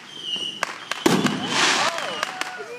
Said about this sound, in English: Did you say we have some other fireworks going off?